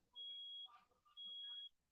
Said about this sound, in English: What the fuck is that beeping?